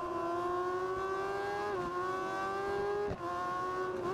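An MV Agusta motorcycle engine and exhaust in the racing game Ride 4 whines loud and steady under acceleration, climbing in pitch with two quick drops at gear shifts.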